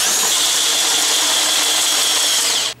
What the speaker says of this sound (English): One of the things I like about this Harbor Freight drill is it has a half inch chuck on it